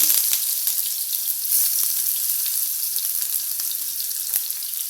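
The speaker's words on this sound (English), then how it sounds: "Now we add some" Onions fry in hot oil in a pan while a masala for cheese balls is prepared, producing a dense, even, loud hissing sizzle with faint crackles throughout.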